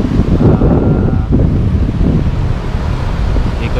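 Steady wind rushes and buffets the microphone throughout, a constant low roar with gusty swells, no voices present.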